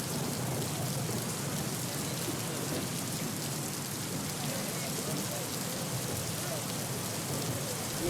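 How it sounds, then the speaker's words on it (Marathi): A heavy thunderstorm with stormy winds brings a dense, unbroken roar of pouring rain, loud and steady from start to finish. "वादळी वाऱ्यासह मुसळधार पावसानं हजेरी लावलेली आहे"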